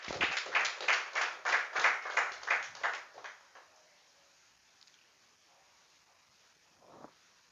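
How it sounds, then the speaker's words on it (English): Audience at a school debate competition claps loudly in a rhythmic group burst for about three seconds, then fades to a quiet room with a brief faint patter near the end. "Oh, clap."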